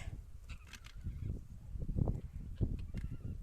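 Several geese honking in short, irregular calls, fairly close, over a low rustling outdoor background.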